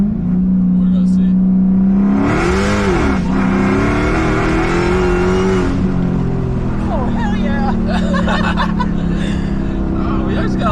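A 1000-horsepower Dodge Hellcat accelerates hard from a 40 mph roll, its engine note climbing and sagging as traction cuts in, loud and close from inside the cabin, with people talking and laughing over it.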